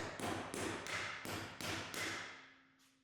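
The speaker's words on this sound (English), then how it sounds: "Place one of the caps below its corresponding hole and hammer it into place." Six sharp metallic hammer strikes seat a driveshaft carrier bearing cap on a 2024 Ford Ranger at a steady rhythm, each ringing briefly, followed by a fainter final tap.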